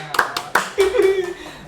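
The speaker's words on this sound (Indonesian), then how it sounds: "tepuk tangan untuk kita semua." A few sharp, separate hand claps ring out close by, followed by a short voice, as a podcast audience is asked to applaud everyone at a university language-education event.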